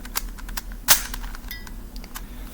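Sharp clicks from a twelve-sided puzzle cube as it is turned, a few scattered snaps with one louder crack near the middle, close and alone.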